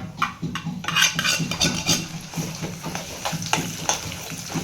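Ground masala, cumin and cloves are stirred in a pan for dhaba-style shev bhaji, giving a repeated scraping and clinking of a spoon against metal in an uneven rhythm, close and moderately loud, with a faint sizzle underneath.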